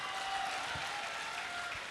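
Students in an audience clap in a dense, even burst of applause, steady and moderately loud throughout the short stretch with no voices over it.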